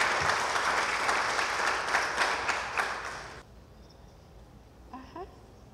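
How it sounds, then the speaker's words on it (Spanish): Loud, dense audience applause welcoming a keynote speaker at an International Women's Day tribute, clapping for about three seconds then cutting off abruptly into a quiet room with faint chirps. "La recibimos con un fuerte aplauso"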